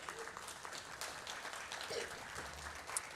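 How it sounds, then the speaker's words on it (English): A convention audience gives a sustained round of applause, steady, dense clapping that fills the room at moderate, distant level with faint voices underneath. "round of applause, round of applause."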